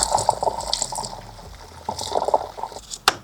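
Flush mixed with distilled water is drawn under vacuum into an Audi's system, giving irregular gurgling, sucking liquid sounds in close bursts with a sharp click near the end.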